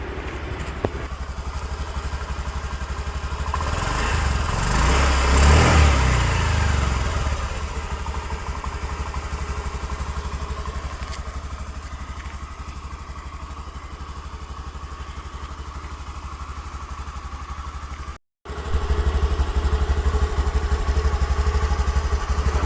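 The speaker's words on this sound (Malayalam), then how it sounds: "നമുക്ക് വണ്ടിയുടെ എഞ്ചിൻ സൗണ്ട് ഒന്ന് കേട്ടിട്ട് വരാം" A Honda Dio DX scooter engine idles at close range with a steady low putter, swelling briefly near the start and then holding an even rhythm, broken once by a momentary cutout.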